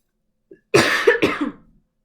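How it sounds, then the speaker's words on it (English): Two or three close, harsh coughs burst out in quick succession from a nearby person with allergies, preceded by a faint throat sound, then fading to silence. "I am sorry for coughing so much"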